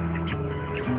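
Chickens squawk and cluck in a close, continuous jumble while being herded toward a run, with raised, scratchy calls cutting in over the flock.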